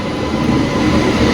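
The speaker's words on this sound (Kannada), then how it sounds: "ಪ್ಲಾಟ್ಫಾರ್ಮ್ ನಂಬರ್ 3ಗೆ ಈಗ ಎಂಟ್ರ್ ಆಗ್ತಿದೆ ಸಿದ್ಧಗಂಗಾ ಎಕ್ಸ್ಪ್ರೆಸ್." The Siddaganga Express, with ICF coaches and a WAP7 locomotive, enters platform 3 at Yeshwantpur Junction as a loud, close, continuous rumble of rolling stock with no pause.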